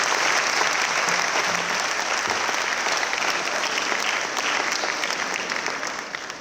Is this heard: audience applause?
yes